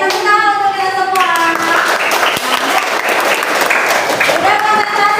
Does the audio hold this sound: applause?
yes